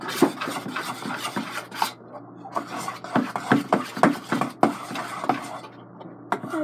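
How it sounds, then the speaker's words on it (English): A spoon stirs glitter through homemade slime, giving a steady run of scraping and squelching rubs in an irregular rhythm, close and fairly loud with no talking. "It's a lot of glitter. So I'm just going to stir it."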